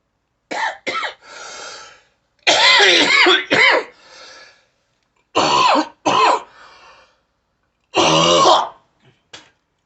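Several loud, close bouts of coughing and throat clearing in clusters, each harsh burst followed by a raspy wheeze, with short silences between.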